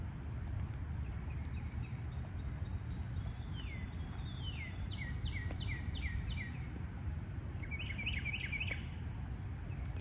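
Backyard birds, among them cardinals and a woodpecker, chirp in quick, bright bursts of repeated notes over a steady low rumble of background noise. The calls sound fairly distant and are clustered near the middle and end.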